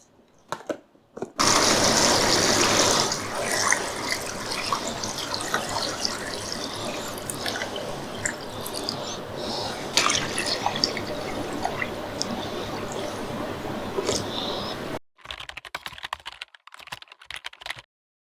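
Filtered water running from a kitchen tap into a pot for fish stock, a steady close splashing stream lasting over ten seconds with small clinks, then abruptly cut off into quieter handling noises.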